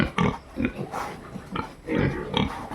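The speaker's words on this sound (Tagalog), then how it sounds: "Ito yung aking mga tira-tira na baboy dito. Ang laki-laki na." Pigs in a backyard farm pen give several short, close grunts and snorts in quick bursts, with no clear speech over them.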